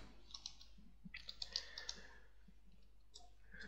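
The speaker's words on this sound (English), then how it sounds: "So once you run it, you have to type a command" Computer keyboard, a few quiet scattered key clicks typed close by, faint and alone with no talking.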